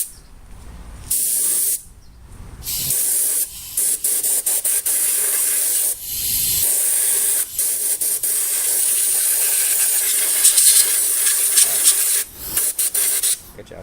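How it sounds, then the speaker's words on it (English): Compressed air sprays in loud hissing bursts, blowing dust out of a Sears Craftsman sander, several short blasts broken by brief pauses, close and harsh. "So go ahead and spray it."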